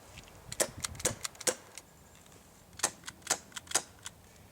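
An HFC Colt .25 airsoft gas pistol running low on gas, firing two quick strings of sharp, thin cracks and clicks, close by, with a brief pause between the groups.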